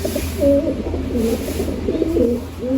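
Pigeons coo in low, throaty murmurs inside a pigeon loft and aviary, several birds overlapping continuously and close by.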